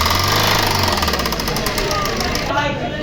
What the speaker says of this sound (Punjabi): ਤੇ ਇਹਦੇ ਵਿੱਚ ਆਵਾਜ਼ ਆਉਂਦੀ ਵੀ ਇੰਜਣ 'ਚ